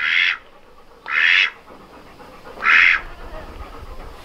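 A duck quacks three times, loud and close, with short harsh bursts separated by pauses, outdoors near a pig pen.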